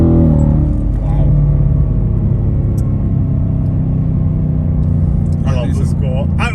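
A naturally aspirated V8 in a Ford Mustang California Special rumbles loud and steady throughout, with the engine note rising briefly near the end as it revs.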